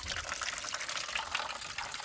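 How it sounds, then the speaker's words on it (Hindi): Water poured steadily into a container of soaking wheat seed for a homemade organic mix, a continuous splashing gush at moderate level with no pauses and no talking. "तो हम और डाल देंगे पानी यहाँ देखो"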